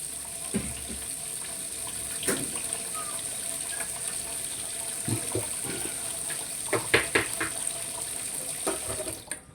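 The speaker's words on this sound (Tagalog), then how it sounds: "Maingay pala yung tubig, di ba napatay?" A kitchen tap runs water into a sink during home cooking of fried chicken and tofu with vegetables, a steady low wash of flow broken by clattering dish and utensil knocks, with a voice speaking briefly.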